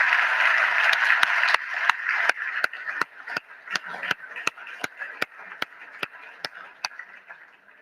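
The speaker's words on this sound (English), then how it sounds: "Another round of applause. Everyone, please put your hands together again for Calandagan." Audience at a horse racing awards ceremony applauding for the racehorse Calandagan, a brief burst of clapping that thins into slow, sparse individual claps that ring out one by one.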